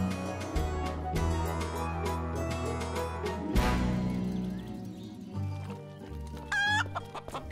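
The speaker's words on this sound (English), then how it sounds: "Here, you deal with this furious hen." A furious hen clucks and squawks loudly and insistently, close by, with agitated calls and music running underneath.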